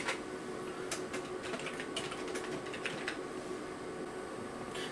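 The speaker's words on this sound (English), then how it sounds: "I can type whatever I want on there." Keys are tapped continuously on the keyboard of a Burroughs self scan neon display terminal, a fast irregular clatter over a steady machine hum, close and alone.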